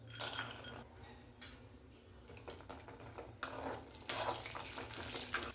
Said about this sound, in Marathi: आता तेलामध्ये आपण काजू तळून घेऊयात।